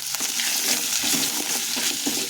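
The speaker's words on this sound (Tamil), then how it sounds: "இப்போ வெங்காயம் போட்டுக்கலாம் வெங்காயம் போட்டாச்சு அதுலேயே கொஞ்சம் சீரகம் போட்டுக்கலாம்" Chopped onions and cumin seeds frying in hot oil in a pan, with a steady close sizzle and soft crackles and faint stirring scrapes throughout.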